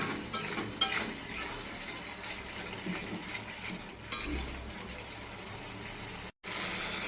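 Spice mix with salt stirred in oil in a pan for katla fish curry, with repeated scraping and clinking stir strokes over a low sizzle, close and moderately quiet, ending with a brief dropout.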